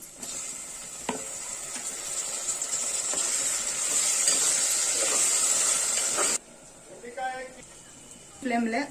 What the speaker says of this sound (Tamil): ஸ்லோ ஃப்ளேம்ல தக்காளி இஞ்சி பூண்டு பேஸ்ட் எல்லாம் வதக்கி விட்டுட்டோம்